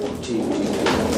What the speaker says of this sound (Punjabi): ਇਹ ਪਿਓਰ ਮੀਰਾ ਕਬੂਤਰ ਹੈ